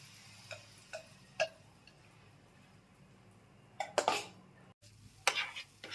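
A pan of chana dal paste with oil and asafoetida is stirred, giving quiet intermittent scraping strokes and a louder clatter near the end over a faint low sizzle.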